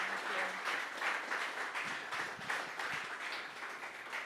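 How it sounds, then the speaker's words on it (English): Audience at an investing discussion event in Miami clapping continuously, a dense, even patter of many hands heard from a moderate distance at fairly low volume. "let's give a round of applause for Siri and Andrew"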